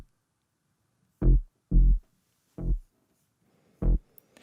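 Layered synth bass made from Triple Cheese plugin patches plays four short, deep, punchy notes in a sparse, uneven rhythm with silence between them, heard alone with no other parts.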